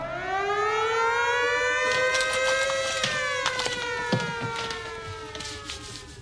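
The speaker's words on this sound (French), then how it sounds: "Quand on entend la sirène, on change." Siren wails with a rising, sustained tone, loud and alone, with scattered knocks and clatter sounding over it as it fades slightly.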